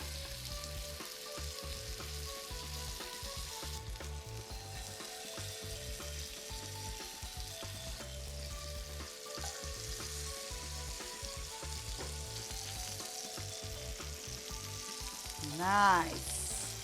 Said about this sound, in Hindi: जैसे ही पैन गरम हो जाए इसमें थोड़ा तेल डाल देंगे। Let's add the marinated fish